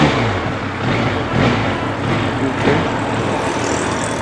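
A Benelli TRK 502 motorcycle engine revs and pulls under acceleration, a steady, loud, broadband drone that swells and eases slightly throughout, with no talking over it.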